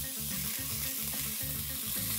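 Spice tempering with curry leaves, four slit chillies and ginger-garlic paste sizzles loudly in a pan, with a steady frying hiss and repeated rhythmic scraping of stirring throughout.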